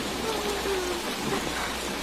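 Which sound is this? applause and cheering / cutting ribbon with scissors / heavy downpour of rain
heavy downpour of rain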